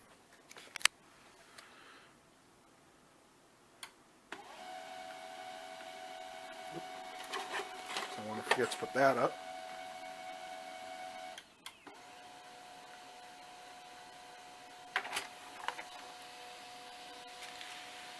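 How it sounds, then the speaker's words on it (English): An HP LaserJet P1006 laser printer runs a page through, its steady mechanical whir and feed clatter starting after a few seconds, pausing briefly, then resuming; a short spoken remark comes near the start. "Definitely not the quickest LaserJet printer I've ever owned."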